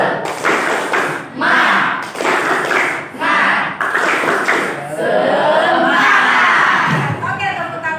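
A classroom of students performs a rhythmic spirit clap, with loud grouped claps and thumps in a patterned beat, mixed with shouted chanting voices and a final cheer.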